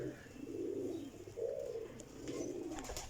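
Sialkoti golden pigeons coo in low, rolling phrases, three swelling calls repeating steadily and close, with faint chirps in the background and no talking.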